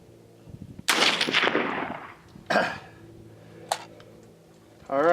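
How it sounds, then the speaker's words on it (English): Rifle shots from a .223 firing full metal jacket rounds, three loud close cracks spaced a second or more apart with short decaying tails, then the start of another. "All right, that was 10 shots."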